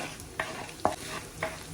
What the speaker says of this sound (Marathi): थोडा थोडा तुपामध्ये टाकून व्यवस्थित फुलवून घ्यायचा आहे